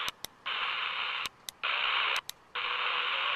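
CB radio on a trucker channel, with bursts of hissing static carrier broken by short clicks and gaps, each burst lasting about a second, no clear voices.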